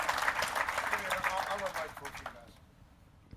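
An audience at a multifamily real estate talk applauds in a dense burst of clapping under some voices, then the applause fades out over the final second.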